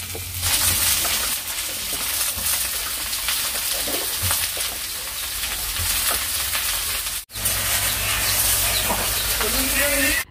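Ridge gourd, eggplant and potato frying in oil with panch phoron make a steady sizzle with occasional stirring scrapes and a brief break partway through.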